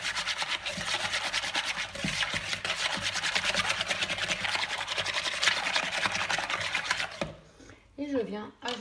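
Cake batter with baking powder is whisked fast by a hand mixer, giving a loud, steady buzzing whir for about seven seconds before it cuts out and a voice speaks.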